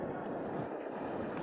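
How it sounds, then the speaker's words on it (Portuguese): Strong, steady wind roaring over a DJI Neo drone, a loud broadband rush with no talking. "Muito vento, muito forte."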